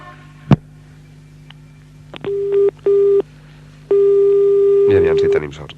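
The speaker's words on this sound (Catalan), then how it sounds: "estem marcant el telèfon d'en Santi" A 1985 telephone call being placed to a person named Santi, with a sharp click followed by a steady line tone, then a series of short dialing tones in uneven bursts and a longer held tone before a voice briefly cuts in.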